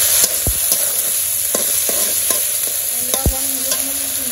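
Ginger, garlic and onion paste frying in a pan for a goat-style meat curry: a loud, steady sizzle broken by repeated sharp scrapes and knocks of a stirring spoon against the pan, with no voices.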